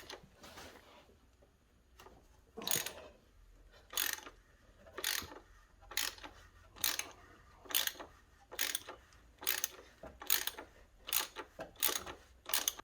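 Ratchet clicking in short rhythmic bursts while loosening the plastic oil filter housing cap on a Citroen Berlingo 1.6 HDi diesel during a service; close, crisp pawl clicks repeating about every second, no talking.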